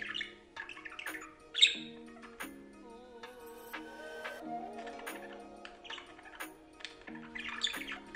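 A budgerigar eating tulsi leaves gives sharp squawks and chirps amid soft ticking and clicking, close and fairly quiet, with short bursts scattered through the moment.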